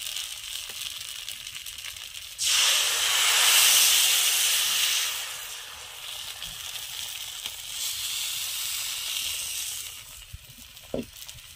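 Chakli pitha batter hits hot mustard oil in a wok and bursts into a loud, steady sizzle and hiss that lasts several seconds, then eases to a softer frying crackle with a brief clink near the end.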